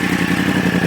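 A Honda CBR600RR sport motorcycle engine, already warm from an earlier ride, runs loud and close in a steady, deep, throaty idle with a rapid pulsing rumble and no talking.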